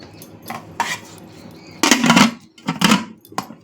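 A piece of potato dropped onto a plate while food is served at a home meal, heard as a few light clinks followed by louder, close clattering knocks of food and utensils against the dish.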